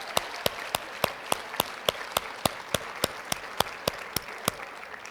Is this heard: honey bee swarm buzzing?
no